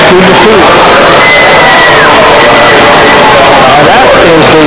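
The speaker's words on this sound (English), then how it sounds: "That is the crowd around a happy Paul Hucker of Mount Vernon" A large crowd cheers and roars around a winning wrestler at the 1978–1979 Iowa High School State Wrestling Tournament, with loud, dense crowd noise and scattered whoops throughout.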